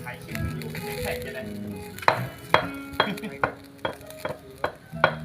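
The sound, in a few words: frog being grilled, sizzling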